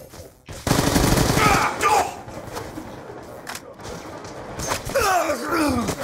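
Shotgun gunfire in Black Ops 2 on PS3: a loud, close burst of rapid blasts, then scattered heavier shots and thuds through a noisy firefight, with a voice briefly heard among them.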